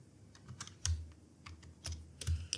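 Keys clatter at an irregular pace on a computer keyboard as an Excel formula is entered, with quick close taps and a few heavier strokes, no talking.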